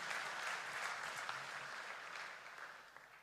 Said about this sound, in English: Let's clap our hands for him.